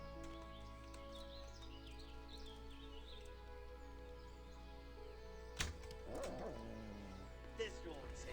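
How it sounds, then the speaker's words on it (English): Dogs bark in Kingdom Come: Deliverance, a few sharp barks and yips arriving late over a steady low hum, with a loud thud preceding them and game sounds around. "Dogs."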